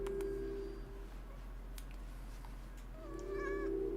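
A small cat mews with short, close, high-pitched calls at the start and again near the end, over a steady low hum indoors.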